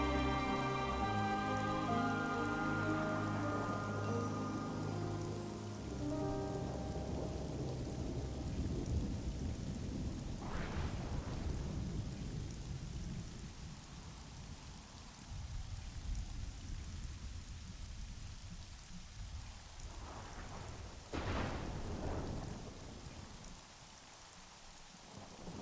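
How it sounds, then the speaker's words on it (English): Steady rain pours through a Xenoblade Chronicles 3 game scene, with two sharp thunder cracks partway through and near the end, after a music passage fades at the start. "I wonder if it's actually scripted for it to start raining around now."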